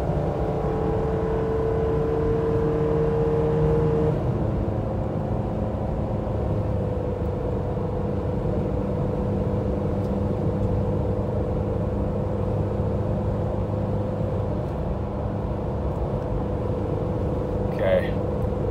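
A 2.7L Toyota Tacoma engine held at high revs while towing a heavy load at highway speed, a steady droning roar with a sustained tonal whine inside the cabin, constant in level throughout.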